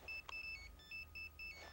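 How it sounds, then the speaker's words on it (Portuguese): A telephone rings faintly in a quiet room, a repeated electronic two-tone trill in short evenly spaced bursts with no talk. "O telefone de novo."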